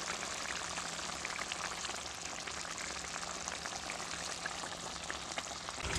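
Steamed cabbage sizzles and fries steadily in hot gravy in a pan, a dense, continuous crackle with scattered spitting pops, close and loud throughout with no talking.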